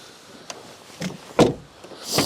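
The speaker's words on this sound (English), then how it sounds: "Rear doors, you open with this handle." Rear door of a Renault Twingo ZE electric car opening: a faint click, then a louder close-up latch clunk and a short rustling swing, with no talking.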